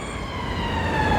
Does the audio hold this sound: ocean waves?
no